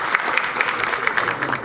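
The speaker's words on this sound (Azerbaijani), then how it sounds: "Alqışlayın." Applause from an audience at an international food and agribusiness forum in Azerbaijan, a loud steady burst of many hands clapping with a few distinct claps standing out, continuous throughout.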